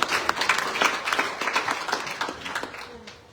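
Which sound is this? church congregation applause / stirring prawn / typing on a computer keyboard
church congregation applause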